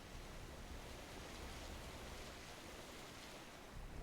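Steady broadband wash of water in a video game, sounding like continuous surf or rushing water, even and moderately faint throughout with no speech.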